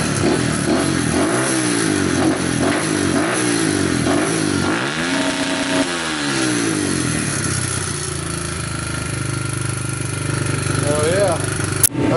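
A Kawasaki KLX110 dirt bike engine, just rebuilt with its airbox refitted, starts up and runs loud and close, revving repeatedly in rising and falling bursts before settling to a steady idle.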